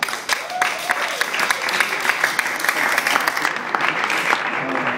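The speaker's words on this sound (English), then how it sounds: "please give a round of applause to Gene Wall." An audience bursts into sustained applause, dense steady clapping filling the room, with a few voices faintly mixed in.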